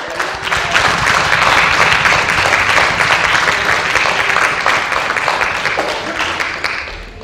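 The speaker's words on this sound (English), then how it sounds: "Let's give the Lord a hand clap of praise" Church congregation at an Assemblies of God service giving a hand clap of praise, dense sustained applause from many people filling the room for several seconds before tapering off, with voices mixed in.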